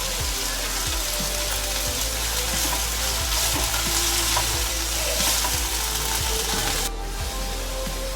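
Coriander and mint leaves fry in a pan for a vegetable pulao, giving a loud, continuous close sizzle with scattered stirring scrapes throughout, no voices.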